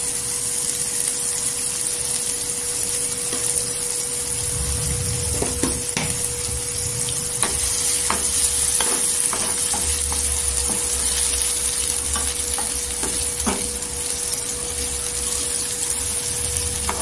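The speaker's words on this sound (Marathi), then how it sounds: "तेलावर इथे छान असं परतून घ्यायचं" One to two salted tomatoes sautéing in hot oil in a pan, a steady sizzle with occasional soft spoon stirs and scrapes, continuous and fairly close, over a faint background hum.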